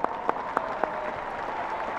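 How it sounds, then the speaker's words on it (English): Audience applause at a spring commencement ceremony for graduates' parents standing up, a steady wash of clapping from a large crowd with a few sharper claps popping out near the start. "Okay, you can clap for them, it's okay."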